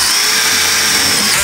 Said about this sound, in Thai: ผมจะใช้สกรูปลายล่มแบบนี้นะครับหรือว่าสกรูปลายสว่านแบบนี้นะครับ ในการยิงทะลุไปทีครับ